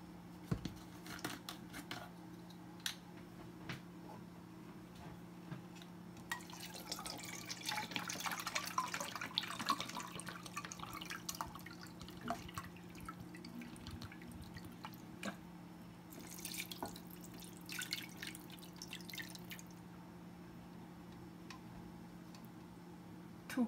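Coconut water pours into a pot for hot pot stock, a soft splashing trickle that swells in two stretches over a steady low hum and occasional small ticks.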